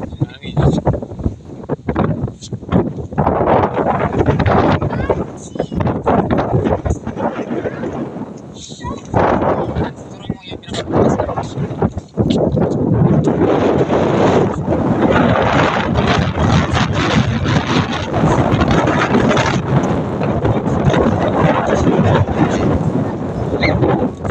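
Strong wind on Mount Eden, New Zealand, buffets the microphone in a continuous loud roar with gusty surges, while people talk over it.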